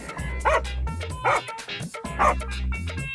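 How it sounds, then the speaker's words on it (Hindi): A dog barks loudly three times, sharp and close, with spaced pauses between barks over a low background hum. "कुत्ता सनकीलाल के पास जाकर जोर से भौंकने लगता है।"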